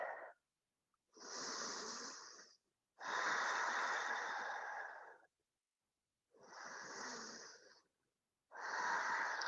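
Slow, controlled ujjayi breaths during a gentle yoga flow, long hissing ocean-like inhales and exhales repeating with short pauses between, close to the mic and fairly soft.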